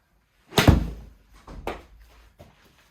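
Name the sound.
golf wedge hitting ball, full shots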